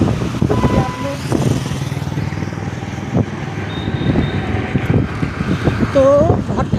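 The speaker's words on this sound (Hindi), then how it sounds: "देखिए कितनी तेज़ हवा चल रही है, बहुत ठंडी है।" Strong, cold wind gusting outdoors on a crowded street during the Magh Mela, rumbling against the microphone beneath nearby traffic noise and someone talking.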